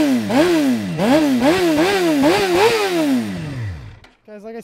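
A 2006 Suzuki GSXR 600 motorcycle engine revs repeatedly in sharp rising bursts, then winds down and settles into a steady idle, loud and close.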